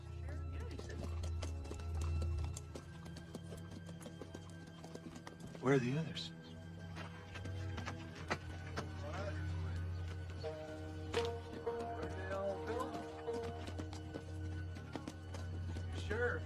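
Several horses approach in a Western film scene, hooves clip-clopping steadily at a mid distance with an occasional whinny, under a low rumbling background and brief male dialogue.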